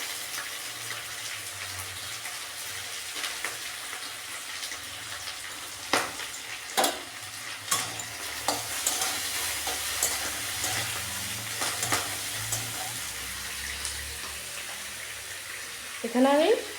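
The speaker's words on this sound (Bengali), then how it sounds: "এগুলো ভেজে নিব।" Bitter gourd (karela) with prawns frying in a pan for a chutney, a quiet continuous sizzle with occasional clicks of stirring against the pan.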